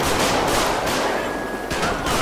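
Gunfire in Grand Theft Auto V during an LSPDFR police patrol, a dense, loud burst of rapid automatic shots and overlapping cracks that fills the whole moment without pause.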